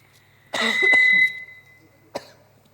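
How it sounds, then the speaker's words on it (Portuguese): A single harsh cough close to the microphone, followed by a quieter second cough after a short pause. "Você vai tossir, você não sabe o que você faz para segurar aqui"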